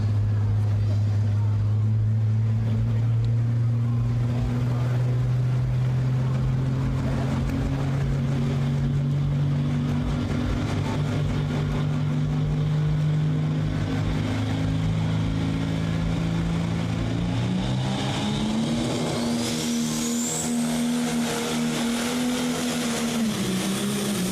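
A John Deere 6030 tractor roars down the track at an OSTPA tractor pull at the Holmes County Fair in Millersburg, Ohio, a loud, continuous engine drone that climbs in pitch near the end, with an announcer talking over it.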